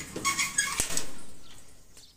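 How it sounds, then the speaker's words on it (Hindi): Pigeons kept on a village farm alongside goats and chickens, giving soft nearby coos with a few chirps and a flutter of wings, fading toward the end. "हमारे पास कुछ कबूतर वगैरह भी हैं"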